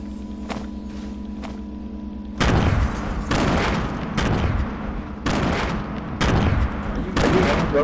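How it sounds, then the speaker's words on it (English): Heavy gunfire rings out in Fortnite as a series of loud, booming shotgun-like blasts arrive about one per second, with a low engine-like drone underneath. "Oh, I heard shotguns."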